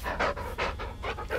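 A dog in the Blair Witch video game pants in quick rhythmic breaths, several close, breathy huffs repeating steadily with no talking over them.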